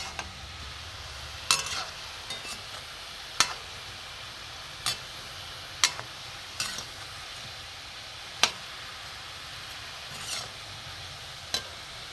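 Puffed-rice pantua balls deep-fry in oil with a soft, constant hiss, while sharp clicks from a spoon turning them recur every second or two.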